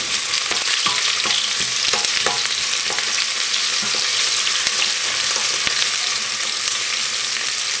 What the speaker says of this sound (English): Make sure you fry this for about 5 to 10 minutes.